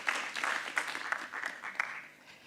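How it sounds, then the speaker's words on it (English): Audience clapping at a legal office launch event for new charging guidelines and a digital case management system, a moderate burst of many hands across the room that fades toward the end. "We need a clap for that also."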